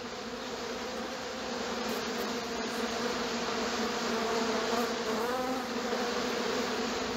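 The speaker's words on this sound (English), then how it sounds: "we wouldn't want the bees to get mad" A dense, steady drone of bees swarming around a hive in a cartoon scene, continuous and fairly loud for the whole stretch with no pause.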